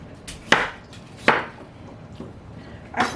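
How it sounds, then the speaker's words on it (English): A knife chops potatoes on a cutting board in a home kitchen, three sharp, close, loud strikes spaced about a second apart, with quiet room sound between them. "Cut the potatoes a little bigger than I did the sweet potatoes"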